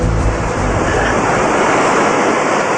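Ocean surf washing and crashing steadily onto the shoreline of a private beach in Nicaragua, a continuous loud broadband roar with no voices.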